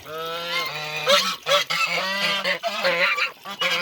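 Chinese geese honk loudly and repeatedly while splashing in a cement mixing tray, their nasal calls overlapping in quick bursts with barely a pause.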